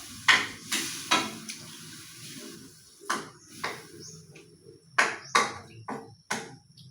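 Potatoes and corned beef sauté in a pan for ginisang patatas, a spatula scraping and stirring in separate loud strokes over a soft, steady sizzle.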